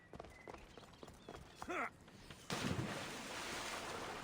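Water washing against a boat in the video game Assassin's Creed Odyssey, a broad steady rush of surf and wind that swells in after scattered knocks and hoof-like clip-clops, loud and continuous to the end.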